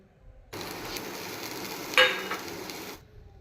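Mango blossoms tipped into a pan of fried onion set off a steady close sizzle with light stirring scrapes, and a sharper clatter comes about midway through.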